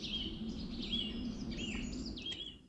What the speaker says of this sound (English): Lovely just sitting here listening to the sound of the birds.